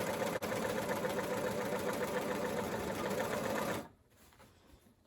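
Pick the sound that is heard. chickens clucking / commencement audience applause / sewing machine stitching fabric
sewing machine stitching fabric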